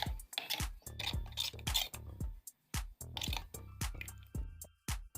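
Flour batter with black cumin, white sesame, chili flakes and a pinch of salt being mixed by hand in a bowl: wet squishes and soft clicks come close up in an uneven rhythm, with short pauses between strokes.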